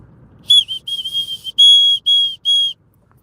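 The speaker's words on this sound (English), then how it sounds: "I use that whistle to call the horses." A hand whistle used to call horses gives five sharp, high-pitched blasts in quick succession. The blasts are close and loud, with short gaps between them, and a faint low rumble sits underneath.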